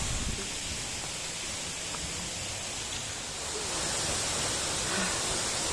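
Ureng waterfall roars as a steady, broadband rush of falling water, close and unchanging, filling the whole stretch without pauses or other sounds standing out.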